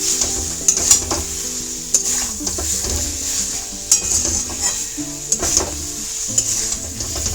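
Potatoes with spices are stirred in a sizzling pan, a spoon scraping and clinking against the metal in irregular strokes over constant frying hiss.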